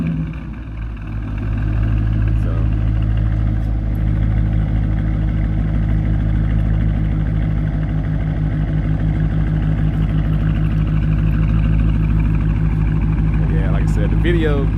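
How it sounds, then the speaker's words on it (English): Two Dodge Challengers idle together, a steady, loud, rumbling V8 drone held close and continuous, with faint voices under it. "I'm gonna let mine run, and then I'm gonna crank his back up at the same time"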